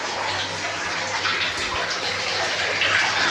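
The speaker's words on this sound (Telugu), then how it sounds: "పాతాళ గంగ మనకి వాటర్ డ్రాప్స్ యాడ్ నుంచి వస్తున్నాయి, కానీ వాటర్ వస్తూనే ఉన్నాయి చూడండి ఫ్రెండ్స్" Water flows and gushes steadily inside the Patala Ganga cave, a continuous close wash of running water with no voices over it.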